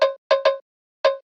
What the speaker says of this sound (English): in this instance, this is the cowbell timing